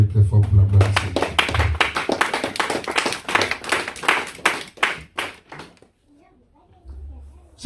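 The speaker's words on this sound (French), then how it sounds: "Est-ce qu'on peut acclamer très fort pour la gloire de Dieu?" A church congregation applauding loudly at a service, a dense burst of many hands clapping in quick succession that thins out and stops, with some voices underneath.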